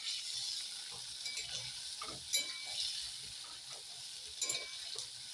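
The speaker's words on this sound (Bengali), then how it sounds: "এবার আস্তে আস্তে করে মাছের তেলটা আস্তে আস্তে করে নাড়ব।" Fish oil, rendered from fish fat, frying in a kadai while being slowly stirred, a steady bright sizzle broken by scattered scrapes and clinks from the utensil and a few sharper pops, close with no talking.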